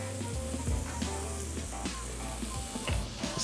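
Three tablespoons of garlic paste sizzle loudly in a hot pan with sweated peppers, a steady close frying hiss with occasional stirring scrapes.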